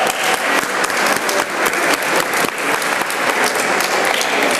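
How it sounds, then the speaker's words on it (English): Sustained audience applause at a civil liberties rally defending immigrants and students, dense and steady clapping from a sizable crowd throughout, loud and close with no speech over it. "So let's give us all a round of applause, please."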